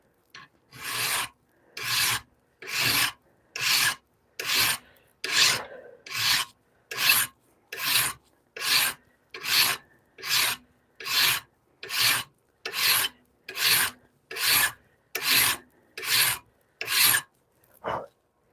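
A hand-forged Bowie knife being filed by hand, about twenty steady rasping strokes in an even rhythm, close and clear with brief pauses between strokes and no talking.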